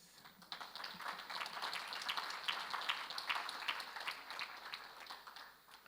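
Sustained applause from the audience at a university long service awards ceremony honouring staff, a dense and steady wash of many hands clapping at moderate distance, swelling slightly midway before fading at the end.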